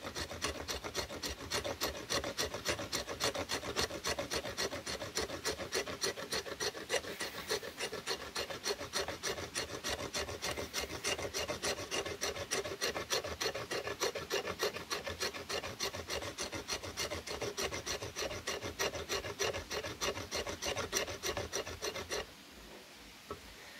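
A knife blade scraping fine shavings from wood to start a fire with a ferrocerium rod, giving close, loud, rapid rasping strokes in a steady rhythm that stop abruptly near the end.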